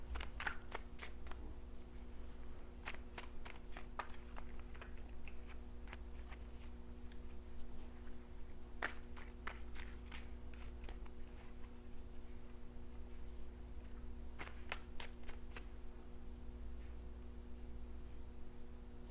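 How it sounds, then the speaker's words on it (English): Tarot cards being shuffled by hand, faint sharp clicks and riffles in irregular clusters over a low steady room hum, quiet and close with no talking. "while I was shuffling"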